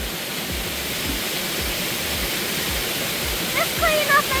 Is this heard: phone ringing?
no